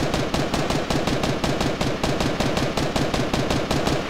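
Rapid automatic gunfire in the Fortnite video game, a steady fast burst of evenly spaced shots lasting several seconds, loud and close with no talking.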